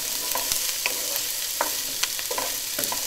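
Masala for aloo gobi, cauliflower and potatoes, sizzles steadily in a pan, a loud close frying hiss with a few scraping stirs on top and no talk.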